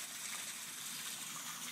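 Water gushing steadily from a leak, a continuous rushing splash at moderate level with no clear pauses between spews across the short stretch, no voices.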